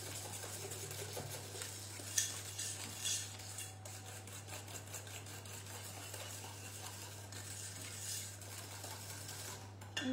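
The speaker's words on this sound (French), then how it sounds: "Et on mélange avec les œufs, avec les jaunes d'œufs et le sucre." Egg yolks and sugar being mixed in a bowl, quiet scraping and clinking of a utensil against the bowl over a steady low hum, with a few louder knocks.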